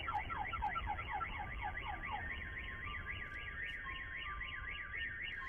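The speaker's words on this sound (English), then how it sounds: "Those aftermarket cheap Russian car alarms kill me." Several cheap aftermarket Russian car alarms blare at once, cycling through rising and falling electronic wails and chirping tones, steady and moderately distant, with no voices.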